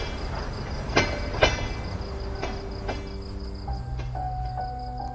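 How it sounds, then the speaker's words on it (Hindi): A train pulls away from a small rural station in an animated story, with rail clatter, clanks and rumble at moderate volume, joined by a few sustained tones. "रेलगाड़ी 2 मिनट रुककर आगे बढ़ गई।"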